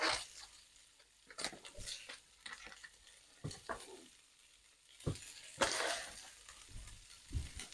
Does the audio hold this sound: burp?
no